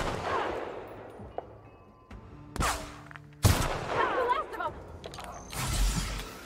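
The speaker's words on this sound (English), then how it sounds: "they actually shot me" Enemy gunfire in The Outer Worlds arrives as sharp, loud shots and short bursts spaced irregularly, with mechanical clanks and a player voice between them.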